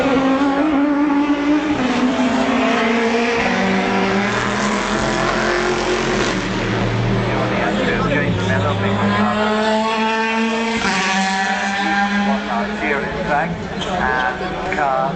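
Ferrari race cars pass on a circuit with a continuous engine roar that shifts in pitch as they go by, under steady talk from a commentator.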